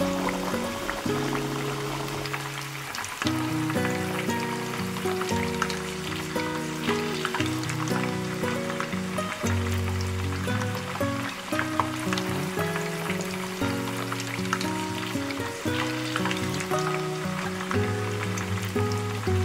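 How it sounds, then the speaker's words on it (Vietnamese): Tofu fries in hot oil in a pan, giving a continuous, even sizzle and crackle that runs the whole time under a steady melodic background tune. "Khi dầu đã nóng thì mình cho đậu hũ vào chiên."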